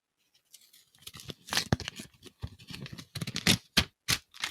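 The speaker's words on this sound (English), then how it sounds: "I'll do it close to the microphone so you can hear the paper tearing" Paper ballot envelope torn open by finger close to the microphone, a run of sharp ripping bursts and crinkles, loud and near, with no talking over it.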